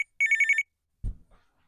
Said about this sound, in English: Is that the phone ringing again?